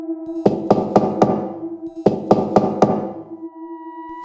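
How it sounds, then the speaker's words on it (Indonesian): Knocking from inside a wooden wardrobe: two bursts of four sharp, evenly spaced knocks separated by a short pause, loud and close over a low steady hum. "terdengar ketukan dari dalam lemari."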